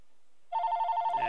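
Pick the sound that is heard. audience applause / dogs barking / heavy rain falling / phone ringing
phone ringing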